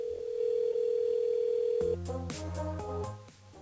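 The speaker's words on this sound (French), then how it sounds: "On appelle Chloé sur le standard de la radio" A radio studio calls a listener by phone: a steady telephone line tone holds for about two seconds, then gives way to louder, layered tones.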